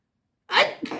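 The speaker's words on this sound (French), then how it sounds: "Attendez, je vais éternuer." A single loud, close sneeze bursting out after silence, with a short sharp second part at the end.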